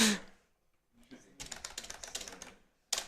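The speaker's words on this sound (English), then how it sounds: "we're gonna mash that space key quite a lot. And it's loud." Loud computer keyboard, its space key mashed repeatedly during a Deus Ex: Human Revolution speedrun, giving a quick burst of clacking keystrokes after a short pause, then a single sharp click at the end.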